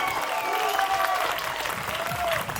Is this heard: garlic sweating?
no